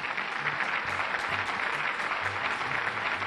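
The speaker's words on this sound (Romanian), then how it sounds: "Aplauze pentru doamna Irina Loghin și Elisabeta Turcu-Juverdeanu." Steady applause from a studio audience greeting two Romanian folk singers, even clapping of moderate loudness throughout, with no talking over it.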